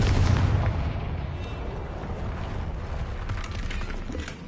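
A Confringo fire-blast spell from the game Hogwarts Legacy, a loud close explosion at the start decaying into a long rumbling, crackling tail of debris and rolling noise.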